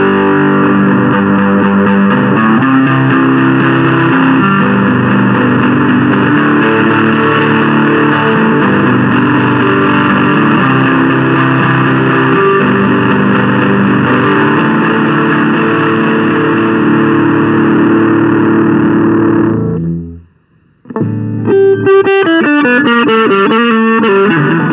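Electric guitar through a Roland Micro Cube amp set to its British combo model, loud, driven chords ringing continuously, then a brief cut to silence before more distorted playing resumes.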